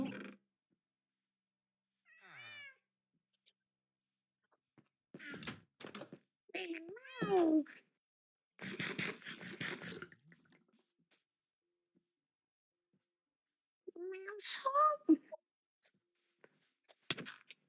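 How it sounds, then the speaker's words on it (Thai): A cat meows repeatedly in short, separated calls, some rising and wavering, with quiet gaps between; a person talks at points in the background. "แมวแมวแมวแมวแมว"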